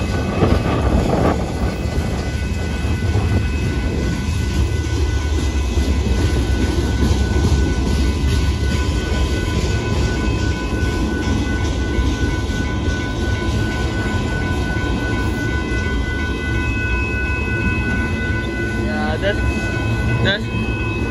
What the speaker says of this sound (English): you're gonna see different freight cars as the train goes on